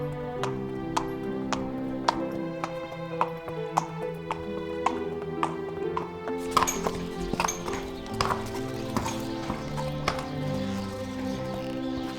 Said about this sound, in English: they typically have about 45 horses on the grounds for training.